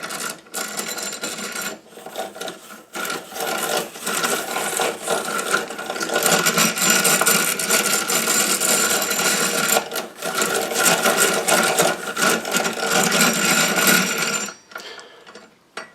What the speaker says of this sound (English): You just put your apple on the holder and start cranking.